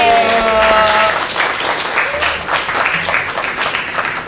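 Participants playing games in an office break into loud, continuous applause and clapping, a close crowd sound that carries on steadily for several seconds, with a voice briefly heard at the start.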